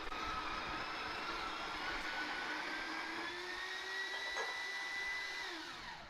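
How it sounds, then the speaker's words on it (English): Coffee beans being ground fresh in a coffee grinder, a steady loud whirring motor drone that holds an even pitch for several seconds before slightly winding down, no talking over it. "I'm going to grind my coffee fresh."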